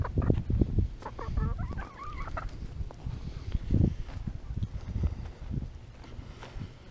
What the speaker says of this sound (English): He's been a good rooster.